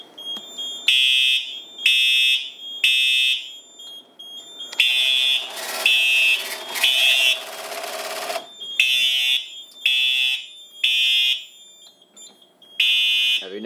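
Linked NFS2-3030 and 4100U fire alarm panels with voice evacuation sound a loud, shrill alarm during a system test, repeating in steady rhythmic bursts with one longer continuous stretch partway through.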